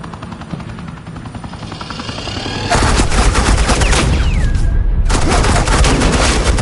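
Suppressing gunfire erupts in the video game Batman: The Telltale Series, a loud, dense rattle of rapid shots that swells and holds steady, with a whining streak cutting through midway.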